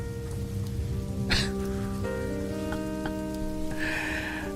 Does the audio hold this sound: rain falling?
yes